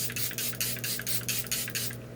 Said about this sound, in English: I'm always going to put too much setting spray on